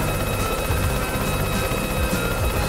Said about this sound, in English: I don't know if he'll talk to me if I'm a helicopter